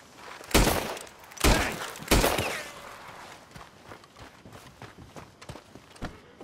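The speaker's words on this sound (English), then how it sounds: "Stop shooting, you crazy bastard!" Gunfire in Red Dead Redemption 2: three loud, close shots spaced about a second apart, followed by a run of fainter, scattered pops and thuds.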